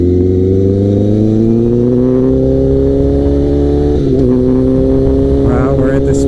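Liter-class sport motorcycle accelerating on a road, the engine drone climbing smoothly and steadily close by under wind noise, holding a sustained loud tone throughout.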